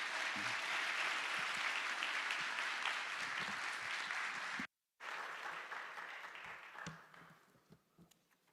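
A chapel congregation applauds warmly to welcome a pastor, dense sustained clapping that breaks off briefly, resumes, then tapers away with a faint voice at the end.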